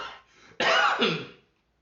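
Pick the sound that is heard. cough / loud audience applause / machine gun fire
cough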